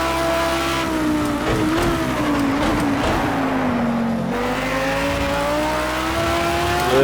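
Race car engine from Project CARS 2 drones steadily and loudly throughout, its pitch sliding down and back up as the driver lifts mid-corner and gets back on the throttle, with faint tire noise underneath.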